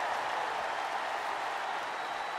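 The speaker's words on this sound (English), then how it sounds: "With every move you make, you hear this capacity crowd following you on that journey." Capacity arena crowd in a wrestling video game, a steady wash of cheering and applause heard at a distance, with no talk in the clip.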